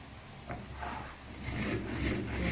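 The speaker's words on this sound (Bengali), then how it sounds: "তাও দেরি হোক, দেরি হচ্ছে তাই চালগুলো বেটে নেবো এইভাবে।" Soaked rice being ground by hand into a coarse paste with a gritty rubbing scrape. The strokes are close and quiet at first, then grow louder and more continuous toward the end.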